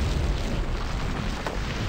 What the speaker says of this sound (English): Get on that keelboat cannon and blast those boats.